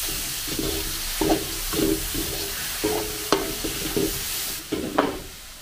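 Beef cubes being stirred and sautéed in a pot for goto lugaw, seasoned with pepper and fish sauce. A low sizzle runs underneath, broken by repeated scraping stir strokes, close up.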